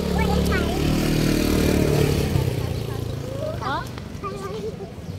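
A motorcycle passes by outdoors, its engine rumble loud at first and then fading away over a few seconds while people talk nearby.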